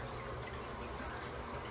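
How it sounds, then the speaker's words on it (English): Water drains steadily from the drain tube of a portable washing machine into a tub, a continuous close gushing rush with no break. "Just let it drain out. If you look inside, you'll see the water is quickly going down"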